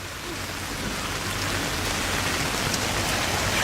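Steady rain pours down at an outdoor track meet, a dense, even hiss of drops that stays constant throughout with no talking.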